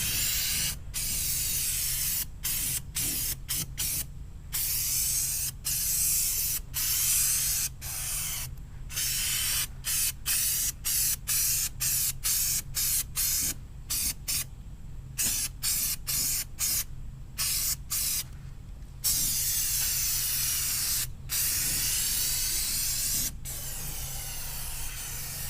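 Aerosol cans of undercoating hiss continuously as they are sprayed onto the fender well of a Chevy Duramax dually truck, long bursts broken by many brief pauses, close and steady throughout.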